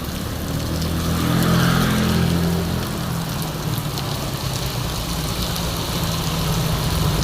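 Heavy, steady rain pours down continuously and loudly, with cars and motorbikes passing through the downpour, one vehicle swelling nearby early on.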